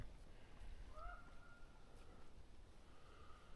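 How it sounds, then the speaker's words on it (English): Crows call from the trees along a quiet cedar-lined paddling route, a few drawn-out, honking caws at middle distance over a faint, steady outdoor background. "Those crows, I don't know what they're doing"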